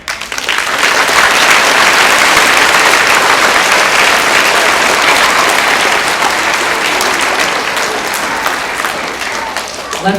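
Sustained applause from an audience at an elementary school Veterans Day honor choir concert, honoring servicemen and women; loud, dense clapping that holds steady for about ten seconds before easing slightly.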